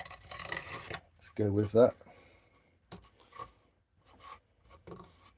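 An unusual abrasive grit rasps against a hollowed-out ash wood bowl during carving, with scratchy strokes at first, then someone talks, and a few brief scrapes follow.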